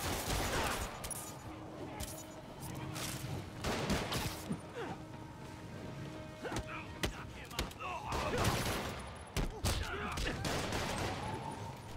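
Gunfire in Marvel's Spider-Man Remastered, with sharp shots and bursts scattered through the scene alongside thuds and impacts, while characters talk over the action.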